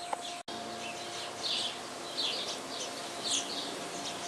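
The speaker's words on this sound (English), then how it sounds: "That's the blackbird again." A blackbird singing in a backyard, a few short, faint phrases repeating at intervals over a soft, steady outdoor hiss.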